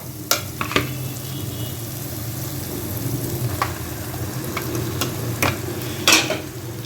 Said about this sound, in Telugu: ఇప్పుడు మనం బీరకాయ ముక్కలు వేసుకుందాం